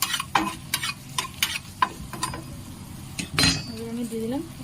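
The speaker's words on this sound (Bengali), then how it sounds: "এবার আমি এখানে দিয়ে দিলাম ওই ভেজে রাখা 4টা রসুন আর শুকনো লঙ্কা। একটু হালকা করে ভেজে নেব।" Garlic and dried red chillies go into hot oil in a pan, with several sharp scraping stirs and clinks of a utensil against the pan over a low, steady sizzle.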